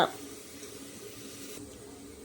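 Peeled carrots rinsed under a running kitchen tap, a soft steady hiss of flowing water heard close, while someone talks over it.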